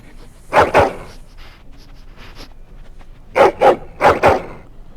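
A dog in the Dragon Age Origins video game gives a couple of quick barks, then after a pause a pair of short barky yips with whimpering, close and loud.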